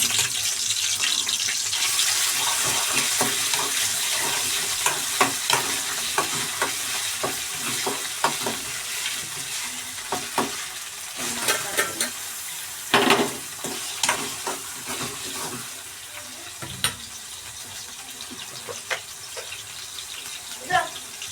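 Chopped tomatoes with ground ginger, garlic and coriander sizzle and fry in hot oil, a steady crackle with repeated stirring scrapes and clicks, louder early and fading later, with faint speech in places.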